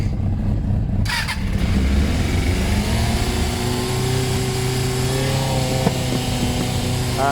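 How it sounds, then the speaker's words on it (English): A Suzuki Bandit 400 motorcycle is started with a bit of choke, and after a brief cranking whirr the engine catches and settles into a loud, steady idle that rises and falls slightly as it warms up close by. "Right, Bandit 400. Let's fire you up and warm you up."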